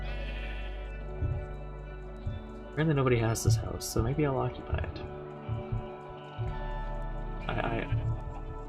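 A sheep in Minecraft bleats a few times with wavering cries alongside someone talking, over a steady background hum.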